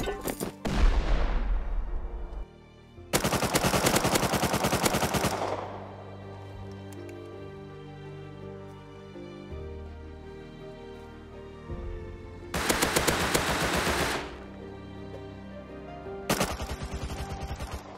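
Bursts of automatic gunfire from the survival game Rust, loud rapid volleys in three separate spells, with long stretches of quieter background game sound between them.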